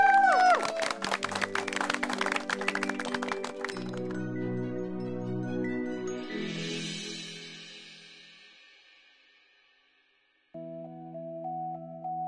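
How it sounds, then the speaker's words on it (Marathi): A TV audience in a Marathi serial applauds a little girls' performance: a burst of crisp clapping mixed with music for about four seconds, then the music carries on alone, fades out and returns. "तर एकदा त्यांच्यासाठी जोरदार टाळ्या वाजवूयात"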